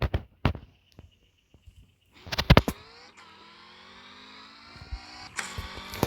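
In a video game, a wrecked car's engine keeps running after a few sharp bangs, settling into a steady droning tone that slowly climbs in pitch.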